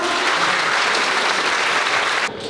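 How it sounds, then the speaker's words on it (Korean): A studio audience at a competitive match applauds for a player, a dense wash of clapping that holds steady and then drops off abruptly near the end. "슬라임 선수께 뜨거운 박수 부탁드리겠습니다."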